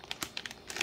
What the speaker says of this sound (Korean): 이거 같은 건 비닐 잘못 뜯긴 거예요.